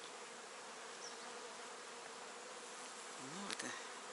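Dense, steady hum of many honey bees in an opened hive with a laying queen, continuous and close throughout, with a brief louder buzz pass near the end.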